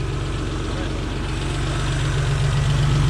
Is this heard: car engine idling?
yes